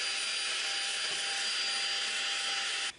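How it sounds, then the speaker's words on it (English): A vacuum cleaner runs loud and close, cleaning the fins of a baseboard heater with a steady whooshing roar that cuts off abruptly at the end. "Now you can clean the area and vacuum the fins thoroughly."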